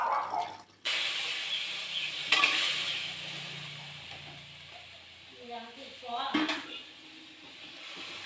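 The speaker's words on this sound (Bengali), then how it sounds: "সেদ্ধ করে রাখা আমের স্টকটা দিয়ে দিন।" Boiled mango stock poured into hot oil with fried mustard seeds in a kadai, a sudden loud hiss and sizzle that settles into a softer bubbling sizzle, with stirring and a brief voice.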